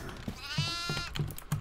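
A goat bleats in the horror video game Devour, a wavering, drawn-out cry near the start over quiet background clicks resembling typing.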